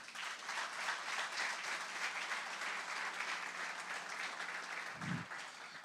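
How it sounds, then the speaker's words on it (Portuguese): Congregation applauding in a church, a steady dense wash of clapping from many hands that holds at even loudness throughout with no pauses. "Você pode aplaudir o Senhor?"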